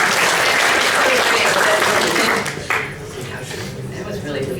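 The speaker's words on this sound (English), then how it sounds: "her a round of applause for her charity" An audience at a technology conference summit applauds in a thick, roaring burst of clapping that fades away after a couple of seconds into quieter room sound.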